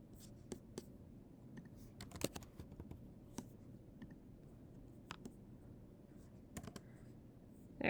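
Quiet typing on a computer keyboard while entering a GIF search for an HTML lesson, irregular clusters of light key clicks near the microphone with no speech.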